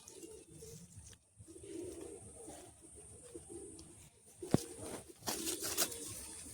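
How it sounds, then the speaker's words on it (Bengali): Pigeons at a pigeon sale in Bagnan coo in low repeated phrases throughout, joined toward the end by louder flapping and bursts of activity close by. "সেলের মধ্যে আছে সব পায়রাই"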